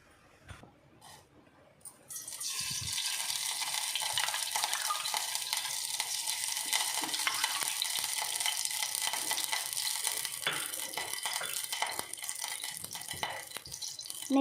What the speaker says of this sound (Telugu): మనం వేరొక గిన్నె పెట్టుకుని మనం ఇందులో 2 టేబుల్ స్పూన్స్ నెయ్యి వేసుకుందాం